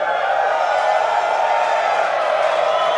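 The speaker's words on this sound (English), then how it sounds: "a lot of cheering here in Hawthorne" A steady, dense wash of crowd noise with cheering and scattered whoops in Hawthorne during a Starship Super Heavy booster hot-staging launch, continuous and fairly loud throughout, like a large audience celebrating.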